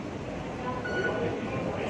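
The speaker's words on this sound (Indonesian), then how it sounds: "Ini aku naik kereta bawah tanah ya guys ya." A Hong Kong underground metro train rumbles steadily, a low continuous rolling noise with faint squeals, heard from inside the carriage at moderate volume.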